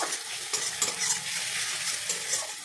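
Vermicelli with turmeric stirred and frying in a pan, a steady close sizzle with repeated scraping strokes of the stirring spoon, no voices.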